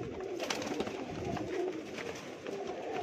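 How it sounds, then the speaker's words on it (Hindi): Breed pigeons in a home collection in Mumbai coo while feeding, soft repeated throaty calls forming a close, continuous murmur. "देख लो ये सब ब्रीड वाले कबूतर है मस्त"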